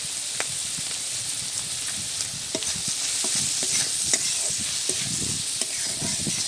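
Cabbage curry spices with salt, turmeric and a little chilli powder are stirred in a sizzling pan, steady frying hiss broken by repeated scraping and clicking strokes of a spoon against the pan.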